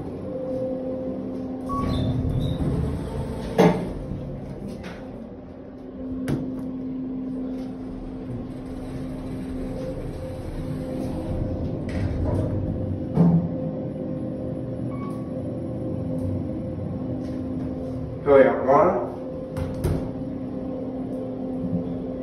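A Kone EcoDisc KSS 570 elevator at a Key Largo resort tower runs with a steady low mechanical hum and faint tonal whine, broken by a few soft clunks and a brief rattling slide of the doors near the end.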